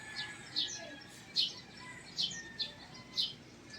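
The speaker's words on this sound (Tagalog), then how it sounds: "Iba't ibang klaseng ibon ang ating narinig na huni." Several short, high bird chirps repeat at irregular intervals, faint against a quiet background.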